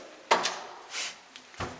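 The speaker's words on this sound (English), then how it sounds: "Close the door." A door closing in a room, heard as a wooden clack followed by a soft sliding rub and a final knock, close and fairly quiet with no talk over it.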